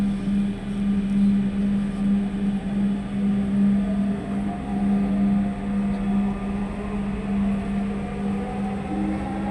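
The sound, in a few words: Dhaka metro rail train running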